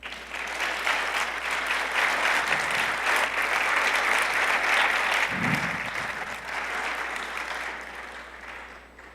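A church congregation in Mexico claps loudly and steadily in praise, a dense, continuous applause that carries throughout and fades only slightly toward the end.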